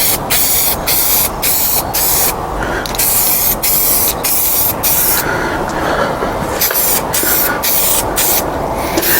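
Spray gun laying a first coat of Candy Apple Blue paint on a motorcycle part for a GPz project: loud, close continuous hissing with brief pauses as the trigger is released and squeezed again.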